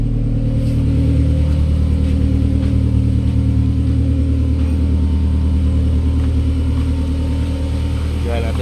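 A Kia Picanto engine with low power and backfiring idles steadily while warming up, a close, loud, continuous mid-pitched hum with a low rumble and no sharp revving.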